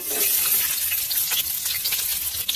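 A small chopped onion fries in two spoonfuls of hot coconut oil in a pan, giving a steady, bright sizzle that continues without a break and with no talking.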